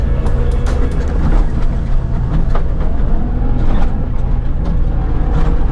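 A tractor drives through a Spanish mandarin orchard on its way to refuel, giving a loud, continuous rumbling engine drone with rattling and clanking over it and no talk.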